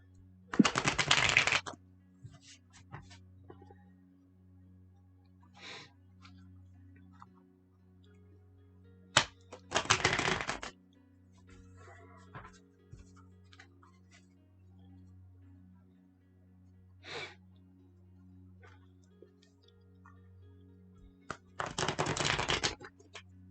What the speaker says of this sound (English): I need to give it one more good shuffle.